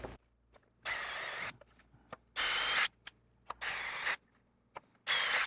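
A power drill whirs drilling holes in wood in several short bursts, each about a second long, with quiet clicks and handling sounds in the pauses between.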